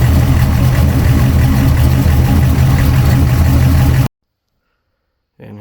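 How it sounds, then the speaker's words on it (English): A car engine fitted with a newly installed VS Racing 7875 billet wheel turbo idles with a steady low rumble and a faint ticking from noisy lifters for about four seconds, then stops abruptly, followed by brief silence. "lifters are a little noisy."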